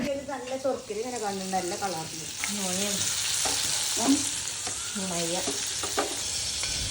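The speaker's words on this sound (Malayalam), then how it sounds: "അതിലേക്ക് ഓരോന്നിട്ട് പൊരിക്കുകയാണ് നമ്മൾ." Pieces of food fry in hot oil for an iftar meal, a steady broadband sizzle with occasional stirring clatter, while a voice talks over the first part and again briefly near the end.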